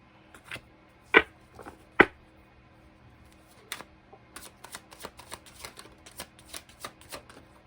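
Tarot cards being shuffled and dropping onto a surface: a few sharp slaps early, then a quick run of soft riffling taps and flicks, close and quiet, with no talking.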